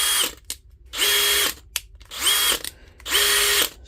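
A DeWalt cordless power drill under repair whirs in three bursts of about half a second each, separated by short pauses and small clicks, close by with no talking.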